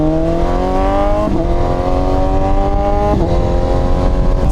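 Motorcycle pulling away hard from a red light, engine revving up through gears with two quick shifts, loud and close from the rider's perspective.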